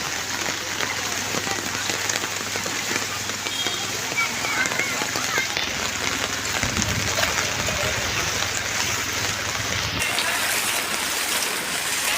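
Heavy monsoon rain pours down continuously on streets and surfaces in Nalasopara, a dense steady hiss with a voice talking faintly underneath.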